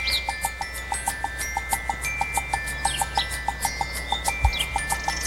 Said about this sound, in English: Here they come face to face with the birds of East Africa